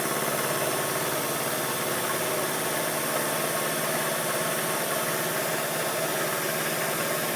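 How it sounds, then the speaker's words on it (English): An air compressor runs in a machine shop near a surface grinder, a loud, steady mechanical drone with a rapid pulsing throb, continuous and alone with no talk. "Bloody compressor."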